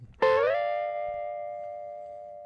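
An electric guitar note plucked with the volume rolled off, then swelled in so the tone blooms in smoothly and sustains, one isolated swelling note fading slowly with no attack.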